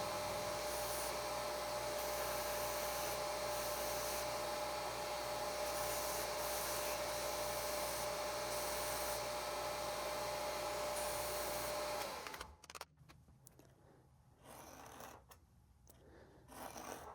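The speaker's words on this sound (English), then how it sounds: "We're going to resort to the belt grinder again." Belt grinder trimming the edges of a handmade leather sheath for a drawknife, a steady loud abrasive whir running about twelve seconds before cutting off, leaving quieter handling noise.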